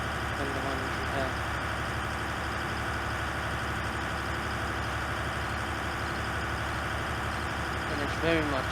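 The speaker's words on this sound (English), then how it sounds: "this is a slightly faster tractor" A farm tractor engine, a slightly faster machine than the previous one, runs at a steady idle with a continuous low rumble throughout, holding even loudness with no clear changes in pace.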